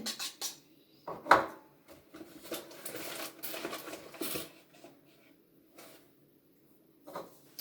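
Spoon clinking and scraping in a bowl as a face mask paste gets mixed, irregular knocks and scrapes with pauses between strokes, close and moderately quiet.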